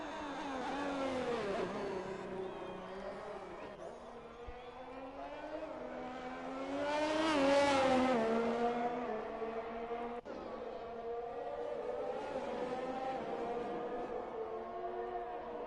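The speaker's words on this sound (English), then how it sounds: "iLink's now starting a flying lap on the medium tyre" A Formula 1 car on medium tyres starts a flying qualifying lap at Mexico in F1 2021. Its high, whining engine note climbs and shifts through gears, swells to a loud peak and then recedes, with a voice talking over it at times.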